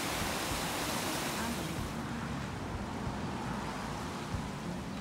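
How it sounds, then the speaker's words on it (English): Mountain stream water flows down toward the lake at St Omer Park in Queenstown, New Zealand, a steady, close, broadband rushing wash that continues without a break throughout. "The water is coming from the mountain."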